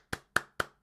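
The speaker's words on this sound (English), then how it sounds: "Can we get a massive round of applause, please, for the wonderful Isaac" Four sharp claps spaced about a quarter-second apart, crisp and fairly close, from an audience applauding a participant at a game jam event; no voices.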